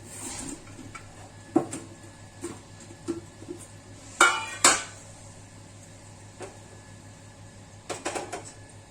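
Frying pan being handled on the stove while cumin seeds temper in ghee for a potato dish, sparse metallic clinks and scrapes, two sharper clatters in the middle, over a low steady kitchen hum.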